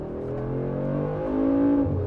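A Mercedes G63 4x4² with over 550 horsepower accelerates hard in sport plus mode. Its engine note swells and climbs steadily, loud and close, over about two seconds.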